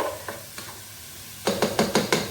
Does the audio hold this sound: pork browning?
yes